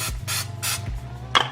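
Pam cooking spray hissing into a pan in a home kitchen, three short, loud bursts over a steady low hum, followed by a faint clink.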